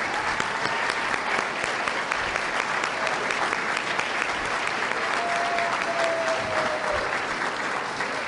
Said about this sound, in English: stand right now and be applauded